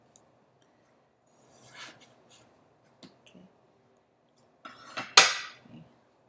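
Potatoes being cut and dried for latkes in a kitchen: sparse knife taps and clinks of utensils against a board or dish, a few brief quiet clatters with one sharper knock near the end.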